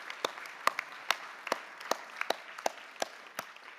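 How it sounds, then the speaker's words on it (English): An audience at a keynote event claps, with a run of sharp, distinct claps spaced irregularly over continuous applause. "Let's give them a round of applause."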